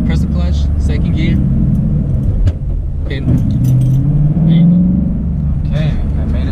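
Manual-transmission car engine hums low and steady as the driver shifts into second gear, a rising tonal drone mid-clip suggesting the engine picking up revs, with light rattles and cabin noise throughout.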